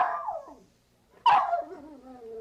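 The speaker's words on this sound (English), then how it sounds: "Yes, it's Spot the Wonder Dog." A dog on a TV show set barks twice at close range, each bark a loud yelping bow-wow that trails into a whine, with a short quiet gap between them.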